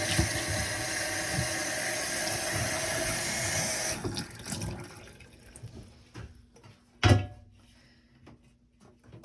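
Tap water runs steadily onto a tempera resist painting being rinsed in a sink, a loud continuous rush that stops partway through, followed by quiet handling, a single sharp knock and faint drips.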